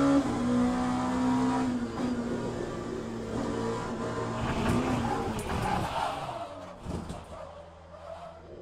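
Race car engine in the sim racing game Le Mans Ultimate, a loud continuous roar with a steady harmonic drone that shifts and rises through gear changes, with bursts of tire and track noise before easing off near the end.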